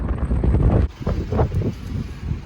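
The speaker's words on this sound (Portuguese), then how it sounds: "Eu ia falar gritando pra dar pra ouvir com esse vento" Strong Patagonian wind in Chubut buffets the microphone in heavy, roaring gusts, loud and close, with rumbling low-end bursts that briefly dip and surge again, no voices heard.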